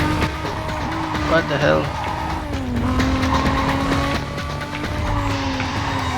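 A Toyota Supra races in Need for Speed: Carbon, its engine revving and shifting loudly while tires squeal through a skid, with someone talking excitedly over the action.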